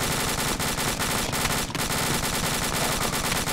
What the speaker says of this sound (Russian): Свои стреляют?